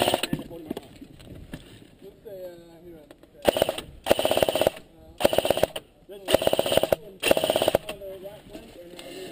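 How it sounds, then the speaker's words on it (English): A gun fires repeatedly on its own during the Berget 14 event, in loud, rapid automatic bursts with short pauses between them, while voices talk nearby. "The gun started shooting on its own."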